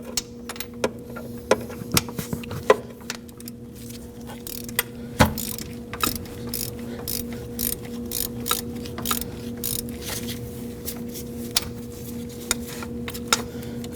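A hand ratchet with a 14mm socket works loose the starter bolts on a 2011-2016 Kia Optima, giving a steady run of close, crisp pawl clicks over a constant mechanical hum, with no talking.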